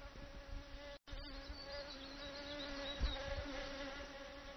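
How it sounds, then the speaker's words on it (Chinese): Chinese honeybees buzz among flowers in Shennongjia, a steady, faint, close insect drone that continues alone with no voices. "当中华蜜蜂在花蕊间采集蜜源的同时，细小的身躯也常常带回花粉的颗粒。"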